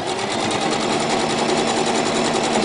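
Domestic sewing machine running a continuous zigzag stitch through layered fabric while sewing a circle-cut girl's skirt with a ribbed waistband, a steady, loud, close mechanical whir with rapid even needle chatter throughout.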